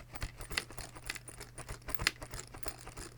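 Mechanical keyboard shifting and rattling inside a zipped carry case, giving a steady run of small, close clattering knocks and taps with no talking.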